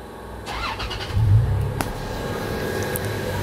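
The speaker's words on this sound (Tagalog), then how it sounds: "So engine start." A car engine cranks and catches with a brief rise in rumble, then settles into a steady idle nearby, with a sharp click partway through.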